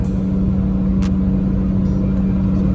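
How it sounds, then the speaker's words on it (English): Lexus GS with a 5-speed, driven after a wheel alignment, gives a steady loud cabin drone of engine and road noise with a constant low hum, plus a brief faint click partway through. "the car feels super solid, drives good"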